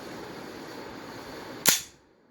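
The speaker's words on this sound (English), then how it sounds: "this is a slide release." A Zoraki 918 blank pistol, a Beretta 92 replica, has its slide released indoors: one sharp, loud metallic snap that rings briefly and dies away, following a low steady background hum.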